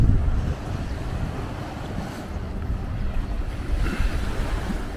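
Waves washing onto a seashore with steady rumbling surf and wind buffeting the microphone throughout, no talking.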